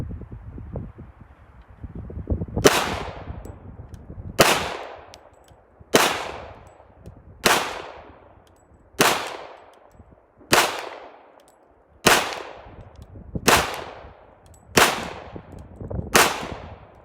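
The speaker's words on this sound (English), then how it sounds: "So here we've got the Fabrique Nationale FNP-45 Tactical. I'll be shooting 10 rounds through it unsuppressed." An FN FNP-45 Tactical pistol fired unsuppressed outdoors: ten sharp, loud reports spaced about 1.5 seconds apart, each ringing off with a clang-like decay, no talking between shots.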